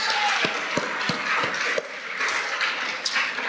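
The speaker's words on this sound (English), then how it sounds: "let's have one more nice big round of applause for these wonderful mathematicians" Audience clapping at a fifth grade school awards ceremony, steady dense applause with a few sharper individual claps standing out.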